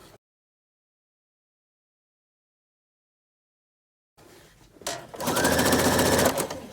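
After a long silence, a sewing machine stitches a face mask with elastic. Brief handling noise comes first, then a close, fast, steady mechanical whir for about two seconds.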